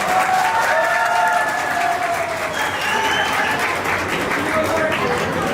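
Steady, sustained applause from a large crowd at a high school batch reunion, with some voices mixed in.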